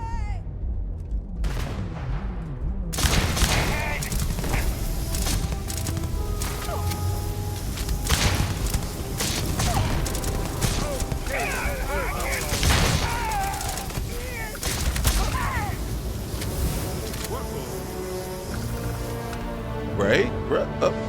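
Gunfire in a Starfield firefight, dense continuous shots and impacts layered with game music and characters talking throughout, loud and busy.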